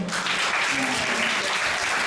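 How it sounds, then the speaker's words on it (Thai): Dense, continuous applause from an audience at a school closing ceremony for an Arabic-language activity, a loud even wash of many hands clapping without a break. "ขอเสียงปรบมือนะครับ"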